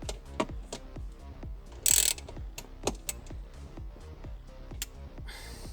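A hand ratchet with an 8mm socket tightens a bolt on a 1996–2000 Honda Civic during a cabin filter replacement. It gives a steady run of close, crisp clicks with a brief bright clank partway through.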